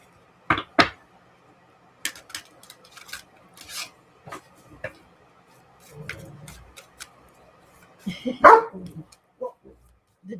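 A pet dog gives a few short sharp barks in a quiet indoor room, then scratching, ticking and rustling noises follow, with a louder burst of barking toward the end.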